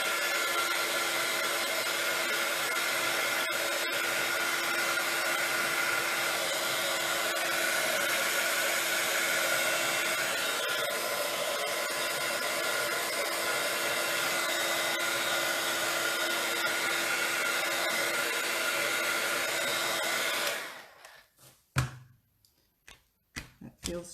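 Heat gun or dryer blowing steadily on stencil paint, a loud constant whoosh for about twenty seconds that cuts off, followed by a few soft knocks and handling sounds.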